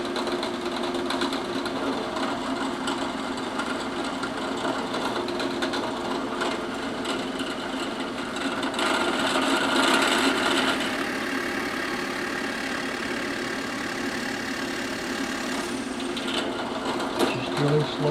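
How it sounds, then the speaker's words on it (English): A drill bores slowly through wooden stave drum shells in a workshop, giving a steady, continuous whirring grind that holds for the whole stretch with slight swells in loudness. "Just drilling slowly through."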